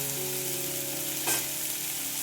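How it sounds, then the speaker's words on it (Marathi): Masala sizzles steadily in a pan with soaked cashews and fresh coriander added, an even frying hiss with a brief stir near the middle, close and alone. "आता हा मसाला आपण छान भाजून घेऊया"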